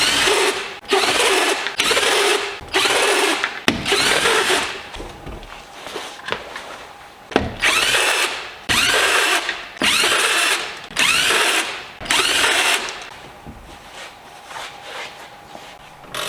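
Rear strut bolts on a BMW drift car being undone with a power tool: repeated loud whirring bursts of about a second each, separated by short pauses, with a few faint clicks and footsteps between them.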